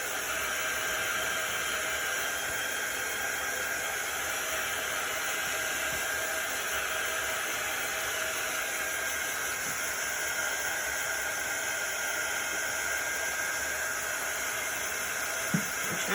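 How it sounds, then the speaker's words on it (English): A quick-dry heat tool blows over chalk paint on a shirt, producing a steady, moderately quiet airy hiss with a faint motor whine that runs unbroken throughout, with no voices. "we're gonna use the heat tool, the quick dry tool, to heat it up"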